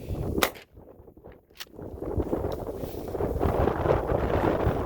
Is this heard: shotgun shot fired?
yes